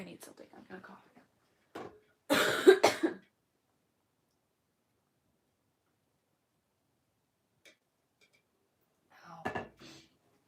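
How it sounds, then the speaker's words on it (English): A short burst of coughing, two or three harsh hacks up close, between brief spoken bits and long stretches of quiet. "I'm gonna cough again."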